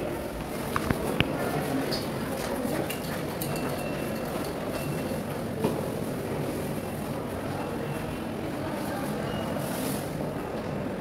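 A Southeastern train at a London station platform: a steady, loud rumble of rail and engine noise fills the scene throughout, with a few brief clanks and station sounds on top.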